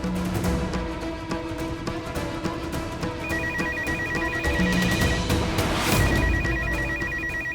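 A telephone bell rings repeatedly in a household scene, its bright electronic trill recurring over a steady background of music and room noise.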